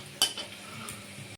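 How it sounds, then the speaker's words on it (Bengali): Papad lentil wafers frying in hot oil, a short burst of sizzle and a utensil clink near the start, then a steady soft bubbling hiss that runs for about a second before stopping abruptly. "সিম্পলভাবে আমি পাঁপড়ে ভেজে নিচ্ছি যাতে কাজটা হালকা হয়ে যায়।"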